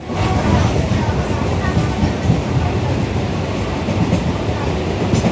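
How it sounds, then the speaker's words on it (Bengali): A passenger train sits in a station shortly before departure, giving off a loud, steady low rumble and hum that continues without a break. Faint crowd chatter mixes into the background. "ট্রেনে উঠে পড়েছি টিকিট কেটে।"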